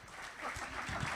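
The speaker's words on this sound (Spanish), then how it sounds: "Muy buen aplauso." Guests at a kick-off dinner event applaud together, a brief, steady wash of clapping heard from a distance at low volume, with murmuring voices underneath.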